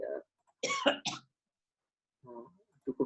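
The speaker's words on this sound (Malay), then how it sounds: "Batuk buat sana." Coughing and throat clearing in a university electronics lecture room: a short burst of several harsh coughs near the start, then a few more rough coughs toward the end, fairly close and loud, with silence between.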